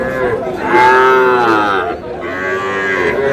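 A Sahiwal bull at a cattle market in Chapainawabganj lets out a loud, drawn-out moo close by, followed after a brief pause by a second lower moo.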